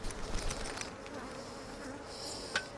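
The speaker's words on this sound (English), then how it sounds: "I'm gonna shake the bees off here as much as I can, then I'll leaf blow them the rest of the way" Honey bees from a hive being harvested for honey buzz as a steady, diffuse drone, with scattered nearby wingbeats and a brief sharper buzz close by near the end.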